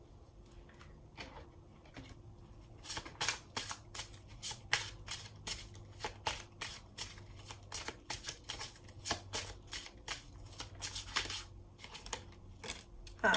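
Oracle cards from a Botanical Inspirations deck are handled and shuffled close by, a run of crisp papery riffles and flicks in irregular bursts that grow busier midway, with no talking.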